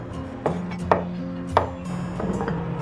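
A knife chopping cheese into cubes on a cutting board, a few sharp separate knocks spaced apart, close and clear over quiet kitchen background.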